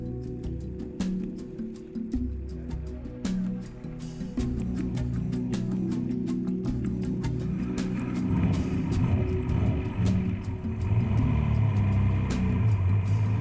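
A vintage BMW 328 Schlüter race car engine gives a steady low rumble that swells and thickens partway through, continuous and fairly close, with no talking.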